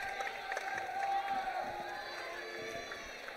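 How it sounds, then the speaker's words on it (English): Crowd applause and cheering in a large hall at a women's college basketball game, a steady wash of clapping with scattered whoops. "Nice round of applause for Macy."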